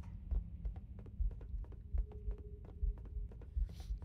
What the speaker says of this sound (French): C'est quoi le bruit de battement de cœur horrible?